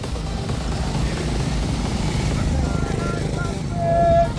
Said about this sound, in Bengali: কোথা থেকে যে আরও এতগুলো মোটরসাইকেল আসছে।